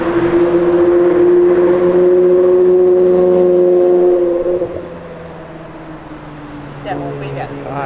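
Sports car engine roaring loudly as it passes on a city avenue, a strong steady tone that fades after about four seconds, followed by people talking nearby.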